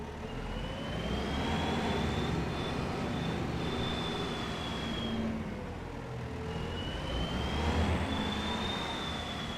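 Tractor engine in Farming Simulator 25, a modded machine working on Witcombe Park Farm, with a thin high turbo whine rising and falling twice over a steady engine drone, sustained and fairly loud, no talk.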